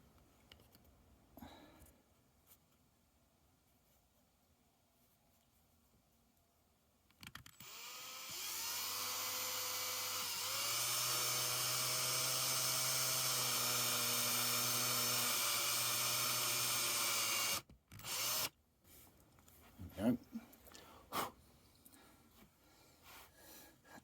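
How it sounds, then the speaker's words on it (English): A power drill boring a hole in a diorama indoors, running in one sustained whine for about ten seconds after quiet handling sounds, then stopping abruptly before a few faint clunks. "So I drilled the hole."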